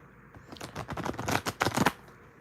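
Tarot cards are shuffled by hand in a quick, close run of riffling and slapping that builds to several sharp flutters and then stops.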